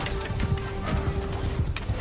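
Horse hooves clip-clop in rapid repeated beats in a Bannerlord battle, mixed with a steady hum and scattered battle noise at close range.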